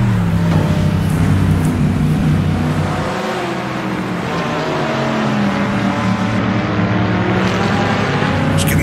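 Race car engine from a 1960s GT racing game with a Porsche and Chevrolet Stingray Corvette on a desert circuit, a steady loud drone that dips briefly midway before swelling again, with no talk over it.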